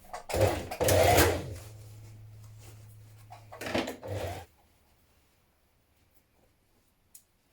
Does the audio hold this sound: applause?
no